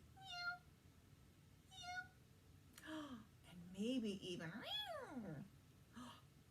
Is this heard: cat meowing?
yes